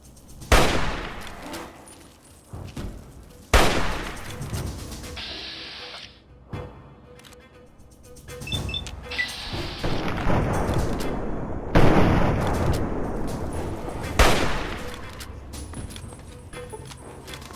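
Gunfire in Fallout 3 against a large creature, with sharp loud shots and bursts, some sustained volleys, spaced irregularly across the clip alongside other game noise.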